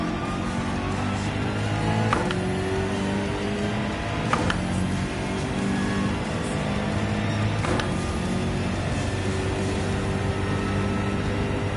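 A race car engine in Gran Turismo 7, heard from the in-car view during a daily online race, drones continuously and fairly loudly, its pitch rising and falling with a few sharp shift clicks.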